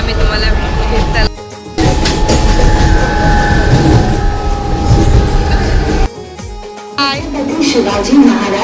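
Inside a moving local train bound for Thane, a loud continuous rumble and rattle of the carriage carries on, cut by two abrupt dropouts, with people talking over the noise.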